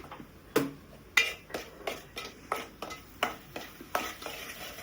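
Chicken liver being sautéed in a pan for homemade chicken momos, with a spoon or spatula scraping and tapping the pan in a steady rhythm of sharp strokes over a faint background sizzle.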